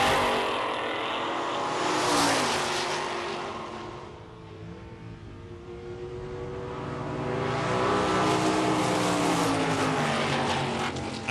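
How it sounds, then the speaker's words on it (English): Two 1960s drag cars, a 1964 Ford Galaxie and an original 1965 BFX Comet, launch and roar down the strip together, their loud revving engines swelling, dipping briefly midway, then climbing again as they accelerate past. "Here's a 64 Galaxy from Short Racing against Dave Coons driving an original 65 BFX Comet on the outside lane."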